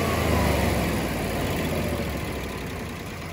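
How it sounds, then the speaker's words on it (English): A Generac 20kW whole-house standby generator engine runs continuously at close range, warming up for an oil change, a low broadband rumble with a constant drone throughout. "we're gonna let this run for about a good 5 minutes. We're gonna heat up the engine"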